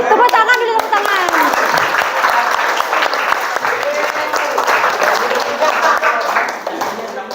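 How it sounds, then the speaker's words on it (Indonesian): Classroom audience of students claps for a pupil during an academic supervision lesson, dense steady applause running nearly the whole stretch with a voice talking over it. "Tepuk tangan dulu, tepuk tangan."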